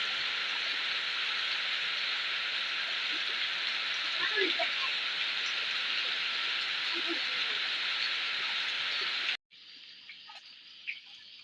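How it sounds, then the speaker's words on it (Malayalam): Steady, dense hiss of heavy rain pouring down without a break, close and loud, cutting off abruptly near the end. "മഴ നല്ലോണം പെയ്യുന്നുണ്ട്"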